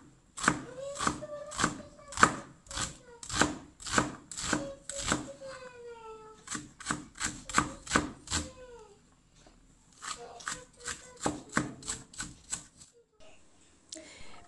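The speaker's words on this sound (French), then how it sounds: "je vais couper un oignon finement." A knife finely chops an onion in steady bursts of crisp, evenly spaced taps, with short pauses between runs and faint tonal sounds over some strokes.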